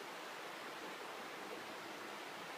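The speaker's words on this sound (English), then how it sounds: "That river's strong." A strong river rushes steadily in grizzly bear country, a constant broad hiss of flowing water, even and unbroken with no voices.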